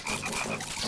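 A frog croaks in a short, close, loud burst of rough repeated pulses, alone without talk.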